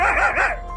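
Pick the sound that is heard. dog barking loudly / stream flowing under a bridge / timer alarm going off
dog barking loudly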